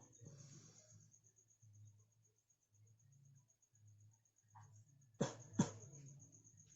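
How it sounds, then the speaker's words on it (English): Two short, soft coughs in quick succession near the end, close by, demonstrating a chest physiotherapy coughing technique after a stretch of quiet murmuring, with a steady high insect-like chirp in the background. "make two brief gentle cough, just like this"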